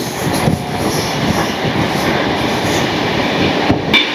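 An LHB-coach train runs at about 110 km/h, a loud continuous rumble and rush of wheels on track with rapid rhythmic clatter and a brief dip near the end.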